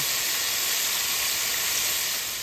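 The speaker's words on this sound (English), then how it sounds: "So while my pasta noodles is going, my chicken is frying." Loud, steady sizzling of chicken frying in hot oil, a continuous close hiss with no talking.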